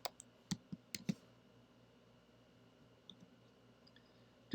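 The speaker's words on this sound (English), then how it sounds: "I'm sure my typing is making everyone just so amused." Quick clicks of typing on a computer keyboard, a short burst of keystrokes at the start, then quiet with a few faint taps and a final louder click, soft and close.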